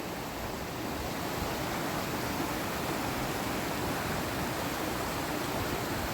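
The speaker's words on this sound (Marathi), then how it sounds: "आणि आता पाऊस चालू झालाय" Rain falling at a river in the countryside, a dense steady hiss of water that stays even and unbroken throughout, fairly faint with no voices.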